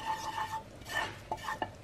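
Flour stirred into melted butter in a pan gives soft, faint scraping and light clinks of a utensil against the pan, with a quiet background hum.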